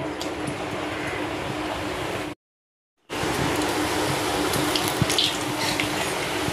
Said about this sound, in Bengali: তো তেল গরম হয়ে গেছে, এবার ভেজে নেব।